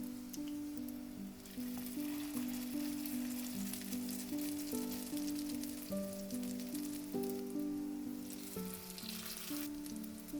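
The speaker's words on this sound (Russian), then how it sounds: "уже начинаем жарить оладьи" Cabbage fritters made from batter and a cabbage mixture sizzle steadily in hot oil in a frying pan, a continuous close crackle with no voices.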